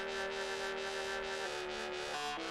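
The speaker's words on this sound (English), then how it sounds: "we play the two dry basses by each other" Two unprocessed basses play together with no effects, a steady sustained low tone with a held note that shifts partway through and again near the end, continuous and loud with no talking.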